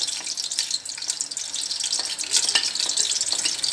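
Whole spices frying in about a cup of hot cooking oil in a pressure cooker for mixed daal, a dense continuous crackling sizzle that holds loud and steady throughout at close range.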